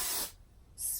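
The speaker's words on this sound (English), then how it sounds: "lifting the hair and spraying right underneath just gives more volume" Freeze-hold hairspray misted onto short hair, two close hissing bursts separated by a brief pause, loud and alone.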